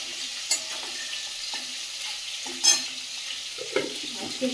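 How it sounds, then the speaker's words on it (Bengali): Steady hiss of dried chillies frying in hot oil in a wok, with a few sharp crackles and the occasional scrape of a utensil in the pan. "তেলের মধ্যে দিয়ে দেবো শুকনো লঙ্কা"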